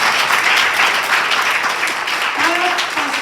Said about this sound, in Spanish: iglesia, denle un aplauso al Señor.